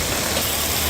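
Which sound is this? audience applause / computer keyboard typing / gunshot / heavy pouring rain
heavy pouring rain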